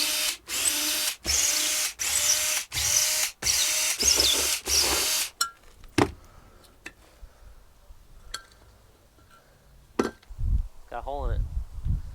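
A power tool cuts out rotten wood on a Glastron-Carlson boat, roaring loudly in several short repeated bursts with brief pauses, then stopping; afterward come sparse knocks, handling sounds and a person speaking.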